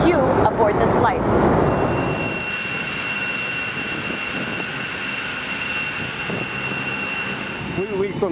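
Inside a privately owned Boeing 747 carrying aid cargo, a steady jet engine roar with high whining tones runs throughout the cabin, with a person talking over it at the start.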